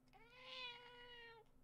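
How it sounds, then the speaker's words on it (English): A house cat lets out a single drawn-out, insistent meow lasting over a second, close and clear against a quiet room. "You just want to meow at me aggressively."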